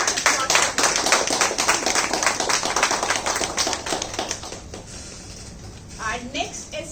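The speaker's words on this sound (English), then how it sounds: "Please give a round of applause." A Toastmasters panel discussion audience claps for a panelist, a brisk round of applause that thins out and dies away halfway through, leaving quieter room sound and a voice starting to speak.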